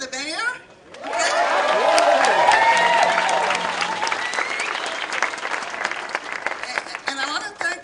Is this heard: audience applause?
yes